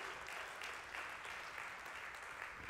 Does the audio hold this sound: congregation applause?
yes